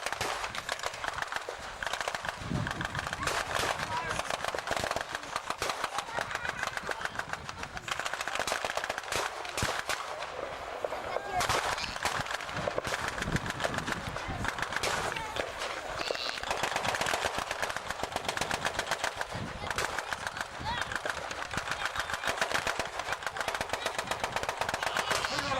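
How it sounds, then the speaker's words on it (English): Sustained machine gun fire from World War 2 half-tracks at a battle reenactment on the Hastings battlefield, dense rapid bursts continuing throughout at moderate distance amid a busy outdoor din. "2 half tracks, using their machine guns and deploying infantry behind."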